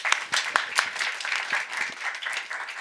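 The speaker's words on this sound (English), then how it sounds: "please give a huge round of applause" An audience at a panel event on attracting foreign talent in Finland applauds, a dense burst of many hands clapping steadily and moderately loud for a few seconds.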